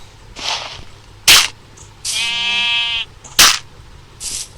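A Minecraft sheep lets out one clear, drawn-out bleat lasting about a second, set among sharp game clicks and short bursts of in-game noise.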